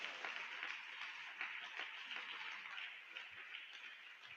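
Church congregation applauding during a service, a faint, distant, continuous wash of many hands clapping with no voices over it.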